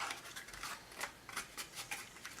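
Paper tabs on a Cricut-cut hexagon box are creased outward, giving soft, repeated crinkles and rustles, close and faint, with no talking.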